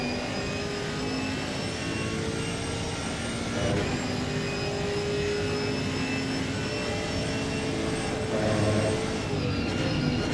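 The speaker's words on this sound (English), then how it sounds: "Chevy sounds good through there" Chevrolet GT4 race car in a racing video game at Donington, its engine holding a steady, buzzing drone with sustained harmonic tones through the corners, fairly loud with no talk over it.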